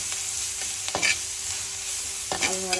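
Onions fry in a pan with a gentle constant sizzle while a spoon stirs them in a few scraping strokes. The stirring is close and there is no speech.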